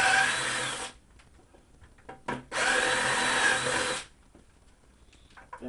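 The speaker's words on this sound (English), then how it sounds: "First one we're going to do is our 5/8 hole, which we're going to do about 1 inch or so up from the bottom." A graduated drill bit bores a 5/8 inch hole for a hydroponic bubbler system in two loud, steady bursts of close whirring, separated by a pause with small handling knocks.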